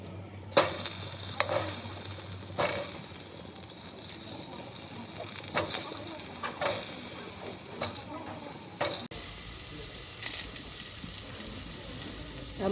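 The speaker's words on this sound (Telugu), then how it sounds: "తర్వాత టమాటాలు కూడా ఫ్రై చేసుకోవాలండి." Tomato pieces frying in a pan for a Telugu peanut chutney and ragi sangati meal, a steady close sizzle broken by several louder stirring scrapes, with no talking over it.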